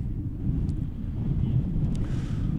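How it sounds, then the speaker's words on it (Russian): Cold wind gusting across an outdoor 8-a-side autumn football match in Belgorod, a steady low rumbling buffet on the microphone that holds moderately loud throughout, with faint distant sounds above it. "Да, ветер еще как будто усилился."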